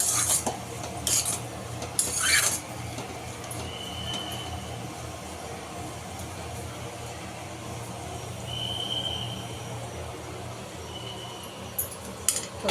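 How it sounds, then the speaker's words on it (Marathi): Ginger-garlic paste is sautéed in a pan for pav bhaji, a low sizzle under scraping spatula strokes and metallic clinks against the pan, close and fairly quiet, with brief bursts of stirring at the start and end. "छान आपण याला परतवून घेऊया"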